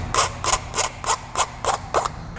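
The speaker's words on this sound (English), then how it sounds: "A few hits with a file should get rid of any unwanted burrs or slag." A hand file rasps across the burred metal edges of a Honda Odyssey roof rail part, about eight short back-and-forth strokes in a regular rhythm, close up with no voices.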